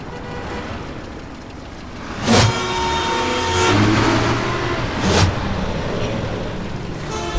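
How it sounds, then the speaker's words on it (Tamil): Cars and motorbikes passing on a road diverted near a convent, a steady engine drone with two or three louder whooshing pass-bys that swell and fade, heard alone without talk. "அதான் வண்டியெல்லாம் இந்த வழியா போகுது."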